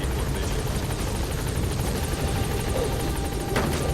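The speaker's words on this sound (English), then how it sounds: "Board the chopper when you're ready for a" A helicopter in Metal Gear Solid V drones loud and close with a rapid, steady rotor chop that continues without a break.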